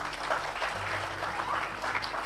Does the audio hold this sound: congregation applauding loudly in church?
yes